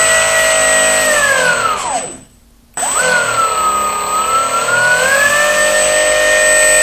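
A brushless motor spins steadily at about quarter throttle on an overheating Hobby King Red Brick 30A ESC, a loud sustained whine that dips sharply and cuts out briefly, then winds back up to a steady pitch.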